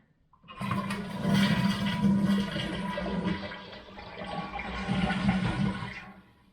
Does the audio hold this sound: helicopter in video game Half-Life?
no